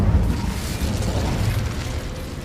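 An Incendio fire spell cast in a Hogwarts video game, a loud whooshing burst of flame with a deep rumbling low end that fades over a couple of seconds, no talk.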